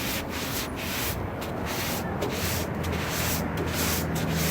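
Steady abrasive rubbing from a sanding block worked by hand across a car door body panel on an EF Honda Civic, a continuous close scratchy hiss with slight rhythmic surges from back-and-forth strokes, no talking.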